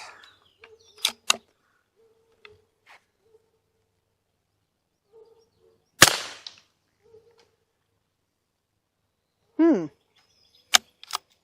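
A single sharp report from a .22 Short round fired outdoors stands out near the middle, with a few faint clicks and small handling noises scattered before and after.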